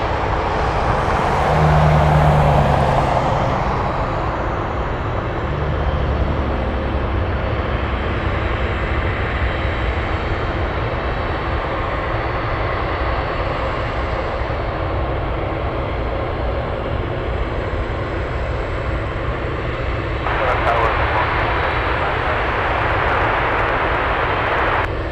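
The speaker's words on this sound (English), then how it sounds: "We have someone taxiing." A large airplane taxis at Anchorage airport, its jet engines a steady, loud whine and rumble that hold throughout, with a brief swell near the start and a sharper hiss toward the end.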